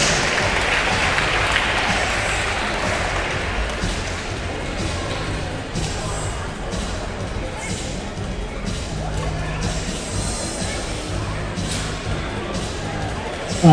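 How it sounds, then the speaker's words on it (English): Applause from a crowd at a county basketball finals tournament in a gym, sustained clapping that fills the room for the whole stretch, fading slightly midway, with some voices underneath. "For a round of applause"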